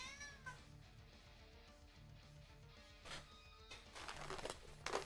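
A pet cat meows several times, short and close, over a low background hum with some rustling toward the end.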